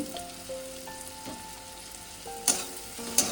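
Paneer Manchurian masala stirred in a hot pan, giving a soft continuous sizzle with faint scraping and two sharp utensil clicks near the end, close and moderately quiet, no speech.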